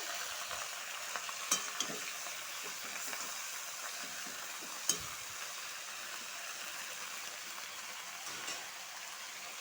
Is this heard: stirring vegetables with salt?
yes